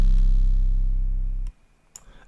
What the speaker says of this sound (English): The first one is actually the bounce 808,